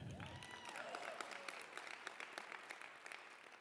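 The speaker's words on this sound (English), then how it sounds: "Yeah, you can clap to that." Audience clapping at a climate movement talk, a dense steady round of applause from a crowd that carries on at even loudness throughout.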